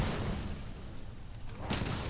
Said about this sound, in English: Notice I'm shooting into the Wyvern Blast this time, because it's close enough to her head to blow up every time I shoot through it